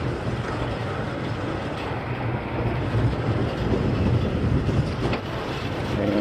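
A Cedar Point roller coaster train climbs a high-speed lift, producing a continuous loud mechanical rumble and rattling clatter with occasional metallic squeals, steady throughout.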